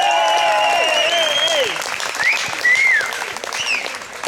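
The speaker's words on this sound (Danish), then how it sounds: "Og så giver vi hende lige et bifald." Audience applause at Nyborg Kampdage 2016 fills the space continuously for a few seconds, a broad steady clapping wash with whistles and tonal chirps riding over it.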